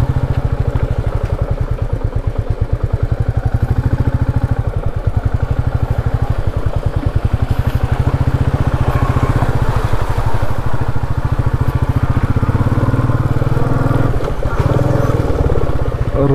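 A motorcycle engine runs steadily up close on a steep mountain road near Tungnath, with a rapid, throbbing putter and some rattling, continuing throughout without speech.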